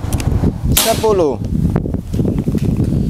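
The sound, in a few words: shot from a wooden CNC toy gun (bocap FX Mahameru)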